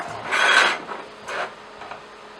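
Rasping metal scrapes from a lubricated 3/8-16 hand tap cutting threads in a pre-drilled metal hole, short back-and-forth strokes, a few uneven grinding passes over a faint steady background hum.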